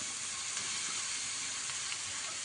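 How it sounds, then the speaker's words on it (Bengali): Grated carrots fry in hot ghee for carrot halwa, giving a steady, dense sizzle and hiss that stays even and close throughout, with no voices. "ঘি গরম হয়ে গেছে। এবার কি করে গাজরটা ভাজবি, তাই তো?"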